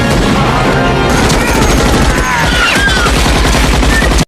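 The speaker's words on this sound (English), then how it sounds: "the lieutenant orders Rico to shoot him instead of dying in agony from the bug" Loud, dense movie gunfire during a battle against giant bugs: rapid overlapping shots and bursts that fill the scene with almost no pause, with a faint voice underneath.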